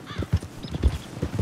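A hard-to-control horse in Red Dead Redemption 2 clip-clops in a quick, uneven rhythm, with around half a dozen close, distinct hoofbeats and a faint whinny-like tone early on.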